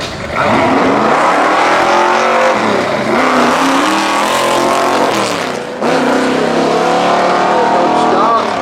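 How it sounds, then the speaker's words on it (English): A loud manual-transmission drag race car engine screams up through distinct gear shifts on a no-prep quarter-mile strip at Manston Raceway, the pitch climbing, dropping at each change, and climbing again, close and powerful. "Much better this time, sounds like a manual transmission."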